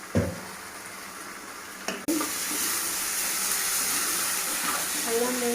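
Ingredients being stirred in a hot pan, with ginger among them, give a steady sizzling, frying hiss that jumps louder after a brief clatter and then continues, with faint scraping under it.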